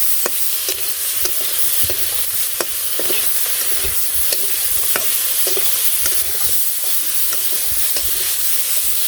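Vegetables sautéing in a pan, a steady close sizzle with frequent sharp spatula scrapes and clicks against the pan throughout, no voices.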